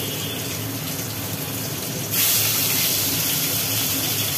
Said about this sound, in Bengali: তেলটা খুব গরম হয়ে গেছে, একটা একটা করে ছাড়ি।